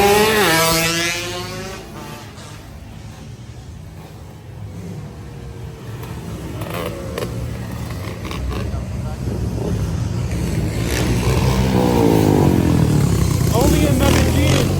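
Motorcycles rev loudly and roar past while riders pull wheelies on a street in Medellín, Colombia, engines rising and falling continuously as someone talks over the noise.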